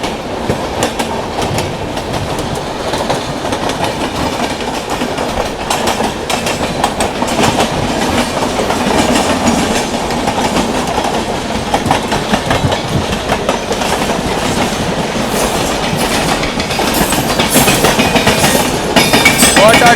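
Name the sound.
train running on tracks, clickety-clack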